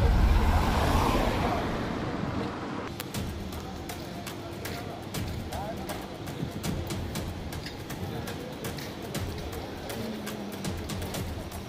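Cars passing on a city street during a lockdown walk, a steady wash of traffic noise with vehicles rolling by at moderate distance, plus scattered clicks and faint background sounds, no clear talk.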